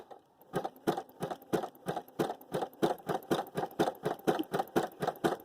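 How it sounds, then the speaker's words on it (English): A sewing machine runs continuously, stitching down fabric straps with an even, rapid pulsing rhythm, close and clear with no voices. "And you're just going to sew all the way down."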